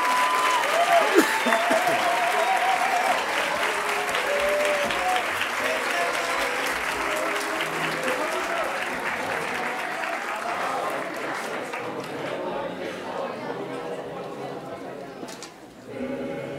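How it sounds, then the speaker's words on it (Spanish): An audience applauds graduates at a graduation ceremony with dense, sustained clapping and crowd noise. It stays loud and steady for about twelve seconds, then thins toward the end as the clapping fades out. "Pues un fuerte aplauso para todos los titulados"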